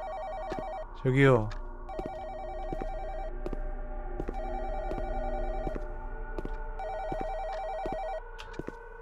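A landline telephone in the horror adventure game Where Is Sarah? rings in repeated electronic bursts, fairly quiet and steady, while someone talks briefly over it.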